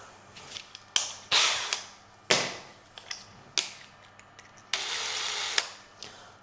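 A countersink drill bit boring into wood during a staircase remodel, heard as a series of short, sharp whirring bursts and clicks with pauses between them, one longer grinding burst near the end, close and fairly loud.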